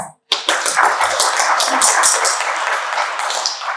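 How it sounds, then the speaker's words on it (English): Audience applause for panelists at an academic sociology and criminology event, a burst of close clapping that starts sharply and holds steady and fairly loud until the end. "invite all of us to give our panelists another round of applause"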